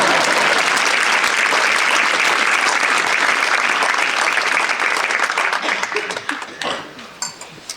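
Loud, dense audience applause at a live French comedy stand-up show, sustained for several seconds before thinning into scattered claps and fading out.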